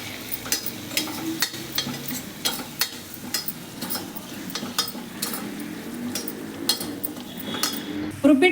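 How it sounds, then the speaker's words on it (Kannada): Coriander powder and garam masala frying in oil, a soft steady sizzle under repeated sharp clinks and scrapes of a spoon stirring in the pan, with a louder knock near the end. "ಧನಿಯಾ ಪೌಡ್ರು 1 ಸ್ಪೂನು, ಗರಂ ಮಸಾಲ ಎಣ್ಣೆಯಲ್ಲಿ ಫ್ರೈ ಮಾಡ್ಕೊತಾ ಇದ್ದೀನಿ."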